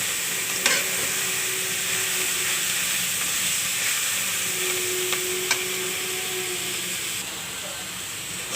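Cauliflower greens fry in a pan, giving a loud, continuous, even sizzle and hiss that stays steady from start to finish.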